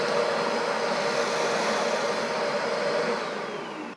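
A Matrix SV8 steam vacuum machine runs in vacuum mode, giving a loud, steady motor whine and rush of air close by. The sound holds level, then begins to taper off at the very end. No one speaks.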